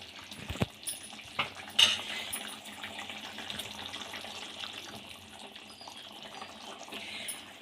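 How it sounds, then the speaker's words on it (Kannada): Tomato egg curry gravy thinned with water simmers in a pan, giving a quiet, steady bubbling with a few sharper pops and clinks early on and no speech. "ಗ್ರೇವಿ ಕುದೀತಾ ಇದೆ"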